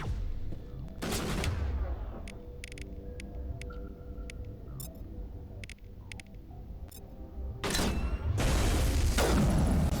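Bursts of gunfire from a sniper firefight in Mass Effect Legendary Edition, loud volleys at the start and end with sharp clicks and electronic game tones in between.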